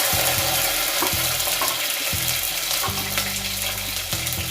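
Curry leaves and shallots fry in hot oil for a South Indian tomato soup, making a loud, steady sizzle close by. Occasional soft knocks or stirring taps rise over the sizzle, and no one speaks.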